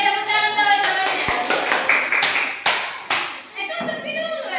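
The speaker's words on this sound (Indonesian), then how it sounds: "tepuk tangan tahu jawabannya" A small classroom audience at a chemistry lesson presentation claps in a short burst of applause, a few sharp irregular hand claps and taps close by, fading near the end.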